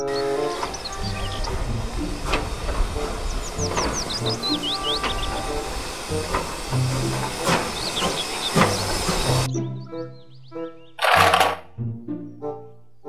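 Toy Thomas the Tank Engine train running with a steady steam-like hiss and chugging, mechanical whirring and squeaky chirps over it, then the noise cuts off and a short loud hissing burst follows near the end, no talk.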